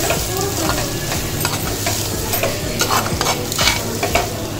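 Pepper mutton curry being stirred in a pan after coriander leaves are scattered over it, a steady scraping and stirring with a low sizzle running throughout, close and fairly loud, with no talking.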